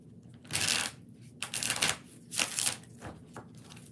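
Tarot cards are shuffled in three quick riffling bursts, crisp and close, with short pauses between them and no talking.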